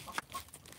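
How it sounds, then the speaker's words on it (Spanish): Chickens peck and cluck softly while eating leftover grape pulp from home juice-making, a brief soft burst of clucking with light pattering. "Aquí las gallinas aprovechando el restante."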